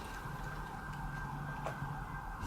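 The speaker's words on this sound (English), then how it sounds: "Sorry about the sirens. I live near a hospital." Ambulance siren from a nearby hospital in Los Angeles, a steady held wail sounding at moderate distance over a low background hum, continuous throughout without talk.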